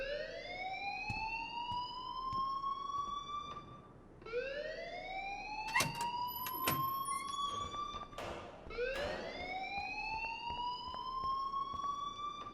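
An alarm in the video game Life is Strange, a loud rising siren-like wail that swoops upward and repeats three times over a steady background, with no talk.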